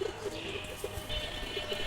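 Faint, low pigeon coos pulse softly and repeatedly from a Silver Pattam and other fancy pigeons amid a steady background hiss.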